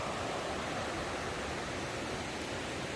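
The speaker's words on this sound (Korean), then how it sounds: "여기 정말 물소리가" A mountain valley stream rushes after rain, a dense, steady broadband roar of flowing water with no break, close and constant.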